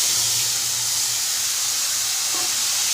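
Ginger, garlic, onion, green chili and tomato paste sizzling in hot fish oil tempered with black cumin and bay leaf, a steady close hiss of frying throughout with no talk.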